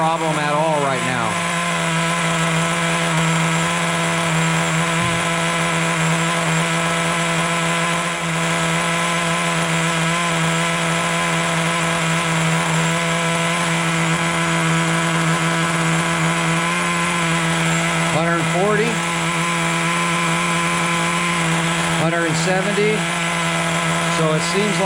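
A Traxxas T-Maxx 2.5 nitro RC car engine idles steadily, a loud close buzzing drone that holds an even pitch for the whole stretch with only small wavers and no talk.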